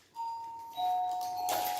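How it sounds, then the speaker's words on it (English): A two-tone electronic doorbell chime rings once, clear and close, ending in a brighter burst, with a quiet room around it. "There goes my doorbell."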